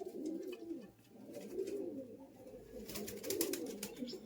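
Giribaz pigeons coo softly in a low, rolling murmur that keeps repeating, faint and close, with some higher chirpy sounds near the end.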